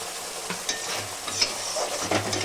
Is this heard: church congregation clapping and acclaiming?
no